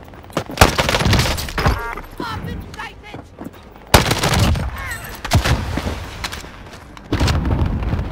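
Sharp, loud gunshot bursts ring out in a battle royale video game, several separate volleys with short gaps between them, mixed with game noise while players talk over the action.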